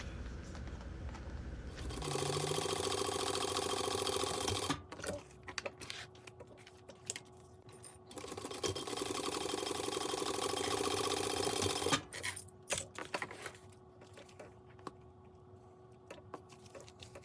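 A sewing machine stitches a vinyl pencil pouch in two sustained runs of steady motor hum, each a few seconds long, separated and followed by quieter clicks and handling noises.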